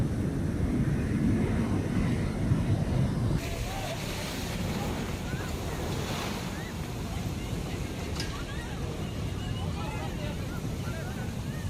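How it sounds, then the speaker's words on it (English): A flash flood on the Uzumlu River sends a torrent of water, mud and debris rushing downstream, making a loud, continuous roar with wind buffeting the microphone throughout. "leading to a tidal wave of water,"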